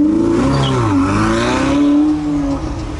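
A Ferrari 488 fitted with an Akrapovic exhaust revs hard and loud on a street in Cannes, the engine note climbing and dipping through a sustained roar before easing off.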